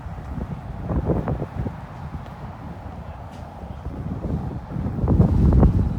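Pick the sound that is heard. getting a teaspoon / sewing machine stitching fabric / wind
wind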